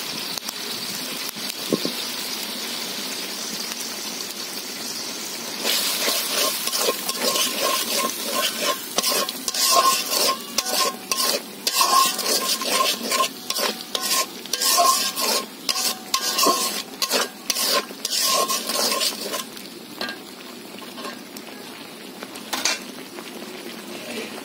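Ground turmeric, chili and coriander with salt being stir-fried in a pan for a sarputi fish curry, with a low sizzle that gives way to rapid, rhythmic spatula scraping and clatter before settling back; no talking.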